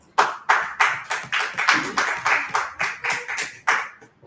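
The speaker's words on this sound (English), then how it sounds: "Let's clap it up." Steady rhythmic hand clapping, about a dozen sharp claps at an even pace, close and loud, ending with a brief pause.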